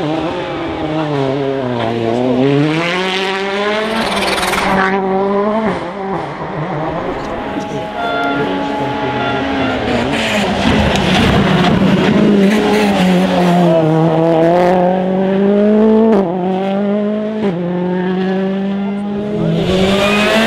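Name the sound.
rally car racing at WRC Rallye de France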